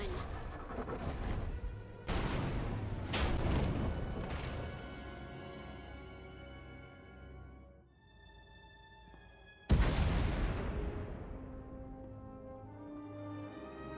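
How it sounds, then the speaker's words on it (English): Heavy booming explosions in the video game Star Wars: The Old Republic, several in succession with rumbling decay, one large blast standing out near the end amid a dense, dramatic soundscape. "We heard explosions."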